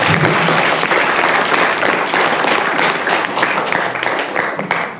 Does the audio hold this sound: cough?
no